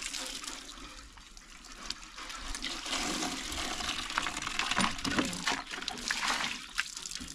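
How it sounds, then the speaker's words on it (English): Water rushing and splashing while a bucket is rinsed, a continuous close gush with fluctuating sloshing surges. "Just rinse our bucket."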